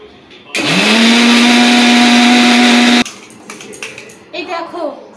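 A kitchen blender grinds soaked cashews into a paste, a loud steady whir starting abruptly and running for about two and a half seconds before cutting off, followed by someone talking.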